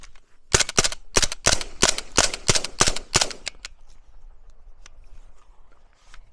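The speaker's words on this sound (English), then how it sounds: "next up, full size MP5. First 3 rounds, 147 grain, then 124 grain. Final 3 rounds, 115 grain El Cheapo." A full-size suppressed MP5 submachine gun fires a quick string of sharp, closely spaced shots over about three seconds, loud and near, followed by quiet outdoor ambience.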